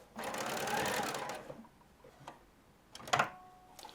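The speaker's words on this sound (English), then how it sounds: "With all darts, machine straight off the point." A sewing machine stitches a dart in dress fabric for a shirtwaister dress, whirring in a short burst of about a second, then giving a few soft ticks and a brief second run, faint and close.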